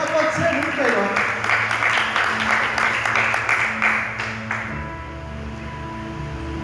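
At a Catholic Carnaval gathering devoted to the Virgin Mary, the crowd claps in a full, dense burst that fades over several seconds, while a voice keeps speaking over the applause.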